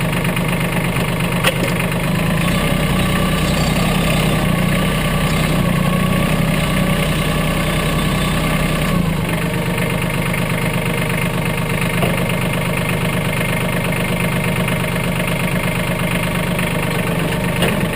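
A 2017 Mahindra 1526 tractor engine idles steadily and close by, a continuous low mechanical drone with a slight dip in tone about halfway through and no talking.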